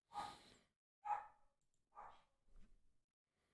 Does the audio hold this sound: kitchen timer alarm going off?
no